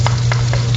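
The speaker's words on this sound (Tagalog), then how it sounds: "Gisa natin." Minced garlic sautés in melted butter in a pan, a close, continuous sizzle with faint periodic stirring scrapes and a steady low hum beneath.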